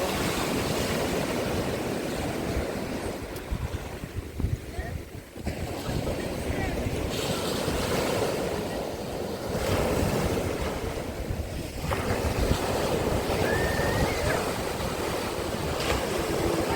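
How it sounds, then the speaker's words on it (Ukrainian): Sea waves roll at Lanzheron beach in Odesa in December, making a continuous, loud wash of surf mixed with heavy wind buffeting the microphone. The roar swells and eases over several wave sets, and faint voices can be heard now and then. "які хвилі підкидує."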